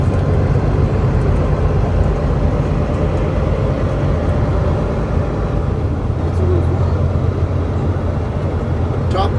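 Inside the cab of a 2009 Volvo truck with an I-Shift gearbox, the engine brake gives a steady, loud, low droning roar that holds constant throughout, with road noise underneath and no talking.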